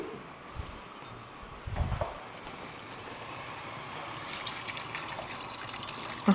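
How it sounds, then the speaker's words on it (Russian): Water is poured into a pot of stewing vegetables, cabbage and herbs for homemade summer tolma, a faint, steady trickle against quiet kitchen background noise. "Сейчас еще добавлю немного воды."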